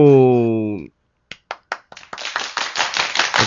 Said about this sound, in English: Those claps be coming a little late